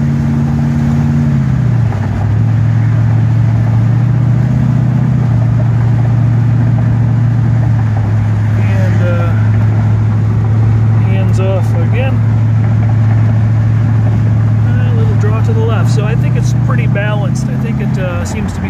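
A 1933 Buick Series 60 pro-touring car cruises along a rough road, its engine holding a strong, steady mid-pitched drone with slight shifts in revs, and a voice occasionally speaks over it.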